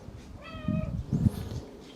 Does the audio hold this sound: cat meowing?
yes